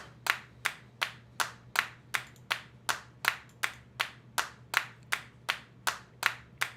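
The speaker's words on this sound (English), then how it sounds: "And then let's listen to our claps here." Isolated clap track from a multitrack mix of a song, sounding as a steady train of sharp, evenly spaced claps, roughly two per second, loud and alone with no voices.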